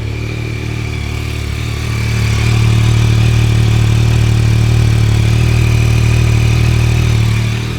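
A motorcycle with its stock exhaust idles steadily up close, its low burble swelling slightly louder partway through and holding there.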